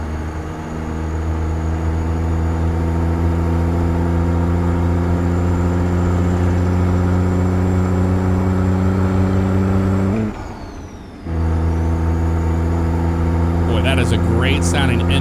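A CAT C-15 engine with turbo in a Peterbilt 389 in a truck driving game drones loudly at a steady pitch. It drops out briefly as if shifting gears, then resumes with a rising turbo whistle.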